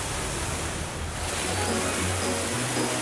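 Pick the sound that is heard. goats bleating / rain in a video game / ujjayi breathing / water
water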